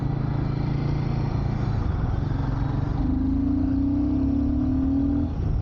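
A Royal Enfield motorcycle engine, either the Guerrilla 450 or the new Himalayan, droning steadily under wind rush and then rising in pitch as it accelerates, loud and close, with no talking.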